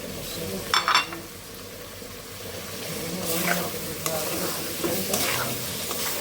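Spice masala fries and is stirred in a pan, with a continuous close sizzle, scraping stirring strokes and a couple of sharp utensil knocks. Faint voices can be heard in the background.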